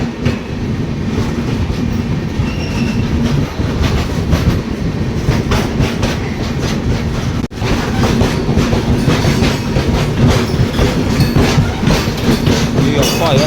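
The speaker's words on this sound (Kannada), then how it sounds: "ಸೊ ಇದಾದ ಫ್ರೈಟ್ ಟ್ರೈನ್ ಹೊಂಟತಿ. ಪ್ಯಾರಲಲ್ ರನ್ ಆಗ್ತೈತಿ ಗೈಸ್, ನಮ್ಮ ಟ್ರೈನ ಮತ್ತು ಯಾವುದೋ ಫ್ರೈಟ್ ಟ್ರೈನ್ದ." A freight train rumbles along a parallel track beside a moving Rajdhani Express passenger train, a loud continuous roar with rhythmic clickety-clack of wheels over rail joints, heard from on board.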